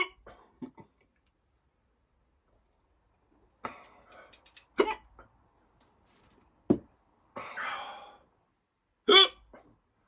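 Sharp, loud hiccups after eating Rummy Bears gummy candy. Several separate jolts come at uneven intervals with quiet gaps between them, mixed with small gasps and breathy noises.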